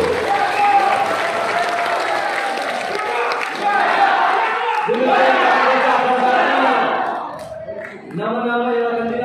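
An audience claps steadily at a formal installation ceremony for an organisation's city board in Medan, loud sustained applause with a voice speaking over it near the end.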